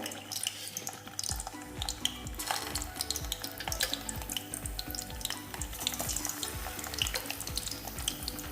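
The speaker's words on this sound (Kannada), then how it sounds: "ಈಗ ಎಣ್ಣೆ ಬಿಸಿಯಾಗಿದೆ, ಮೊಟ್ಟೆ ಹಾಕ್ಕೊತಾ ಇದ್ದೀನಿ." An egg fries in hot oil in a pan, with dense crackling and popping sizzle continuing steadily and close throughout, with no talking.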